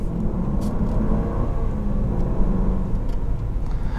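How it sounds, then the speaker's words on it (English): A 2020 Land Rover Range Rover P525 HSE LWB accelerates under heavy throttle, heard from inside the cabin as a steady low engine rumble and road roar, continuous and moderately loud. "I'm giving it more gas than than most people normally would"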